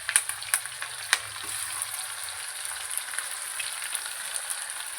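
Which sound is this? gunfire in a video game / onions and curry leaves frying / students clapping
onions and curry leaves frying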